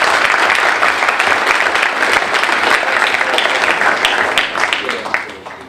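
Dense, sustained applause from a large audience at a plenary session of a conference on extraction, steady and loud throughout before tapering slightly at the end.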